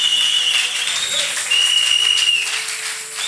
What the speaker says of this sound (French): Alors acclame très fort pour le Seigneur